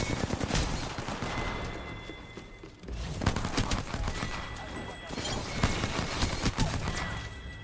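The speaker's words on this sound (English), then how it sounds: "How does he shoot that fast?" Rapid gunfire from an enemy Mirage in a shooter game, dense bursts of fast shots crackling close and loud, with brief pauses between volleys.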